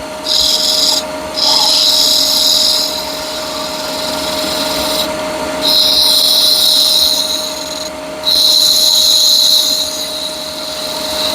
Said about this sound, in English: I like to use a skew is I can get a real clean cut with a skew